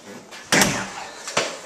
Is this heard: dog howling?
no